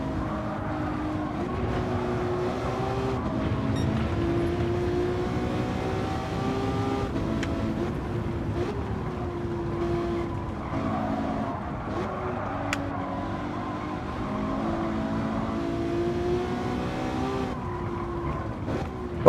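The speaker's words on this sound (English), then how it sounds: "4th, 5th gear and I'm still wheel spinning." A racing car in Gran Turismo 7 wheelspinning through fourth and fifth gear, the engine droning and rising steadily with tire scrub underneath, loud and continuous from start to finish.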